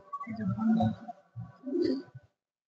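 A male pigeon coos in a breeding loft for high-flying pigeons, with two close, deep throaty bursts separated by a short pause, while a person talks quietly nearby.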